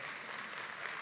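A church congregation claps, a brief, dense patter of many hands heard faintly from a distance.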